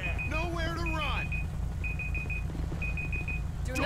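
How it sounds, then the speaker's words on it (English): A repeating electronic beeping alarm in Grand Theft Auto V, short evenly spaced tones over a steady engine-like rumble, with a voice speaking over the start. "My alarm's going off."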